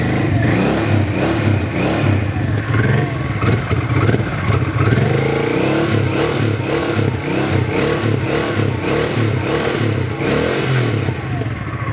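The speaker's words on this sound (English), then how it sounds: "Now the bike is idling, and you see there's no more smoke" Honda Ascot motorcycle engine idling steadily in winter, a close, continuous mid-pitched rumble with light mechanical clatter and no break for the full length.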